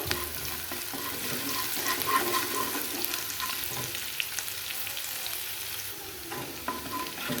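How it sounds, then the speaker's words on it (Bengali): Onions crackle and fry in hot oil with black cumin seeds while a spoon stirs them, a steady close sizzle with scraping strokes that carries on alone throughout. "পেঁয়াজটা অল্প আমি ভাজা ভাজা করে নেবো"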